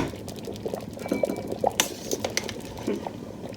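Bitter leaf soup (onugbu) simmers gently in a pot over low gas heat, with soft bubbling under scattered light clinks of a utensil or lid, close and quiet, no talking.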